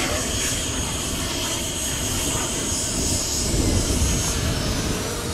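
A radio-controlled model airliner flying a low pass at a club field, its engine a steady, loud roar and whine that swells slightly as it passes, with people talking over it.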